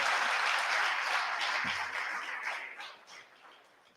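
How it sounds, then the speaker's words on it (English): Audience applause at a book launch event, a dense burst of clapping that starts loud and gradually thins and fades over a few seconds, with no talking over it. "Give her a big round of applause."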